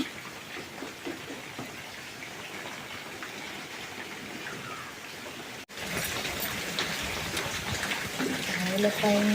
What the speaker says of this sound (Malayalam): രാവിലെ തന്നെ ഭയങ്കര മഴയാണ്